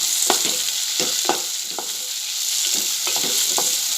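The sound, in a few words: frying bombil fish with methi over higher heat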